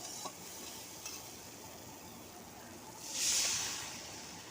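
Water poured into frying spice paste for a low-oil fish curry, a quiet sizzling hiss that swells into a brief louder burst, close and faint with no talk.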